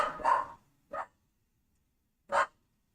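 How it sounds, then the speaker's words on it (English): A pet dog barks three times in a quiet room, a longer first bark followed by two short, sharp ones with clear gaps between them, close and alone with no talk. "My dog is saying good morning."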